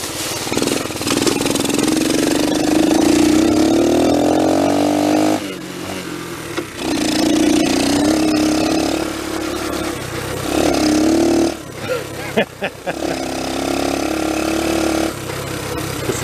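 A restored 1974 Honda ST90 motorcycle engine running close by, a loud, smooth four-stroke drone that revs up and drops back between gears over several pulls.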